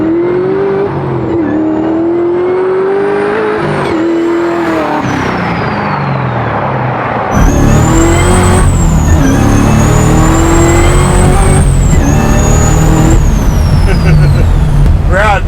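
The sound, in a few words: supercharged 427 Chevy Chevelle SS restomod driving and revving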